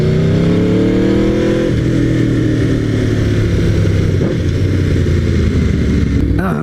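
Aprilia RSV4R motorcycle fitted with a GPR Thunder Slash exhaust, a loud close engine note that drops from a high rev to a lower steady drone, with a brief change near the end.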